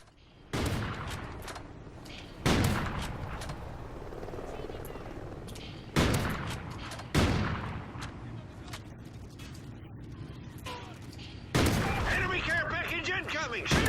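USR sniper rifle fire with an ACOG scope in Call of Duty Ghosts: several loud, sharp shots spaced a few seconds apart, each followed by a ringing tail, over background game noise with a voice heard at times.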